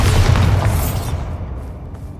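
Bombarda explosion spell in Hogwarts Legacy, a loud booming blast that hits at once with deep low rumble and crackling debris, then decays over about a second into a fainter tail.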